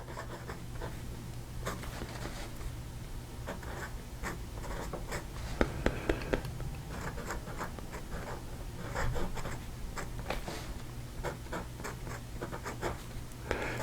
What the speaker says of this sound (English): this is another pen that I really enjoy writing with